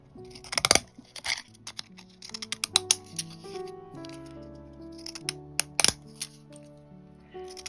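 Scissors cutting paper for homemade faux vintage stamps: a series of close, crisp snips and clicks in irregular rhythm, with a few louder sharp snaps and faint light tonal ringing between cuts.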